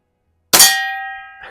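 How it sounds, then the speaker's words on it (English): Air gun pellet striking a metal target hung on string, a single sharp ringing clang that sustains and slowly decays, with a faint second tap near the end. "let's take a couple shots at it and see what the air guns do to it."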